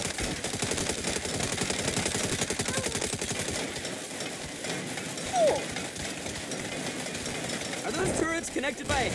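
Rapid turret machine gun fire in the video game Saints Row rattles on continuously through a dense, loud mix of game sounds, with voices talking over it.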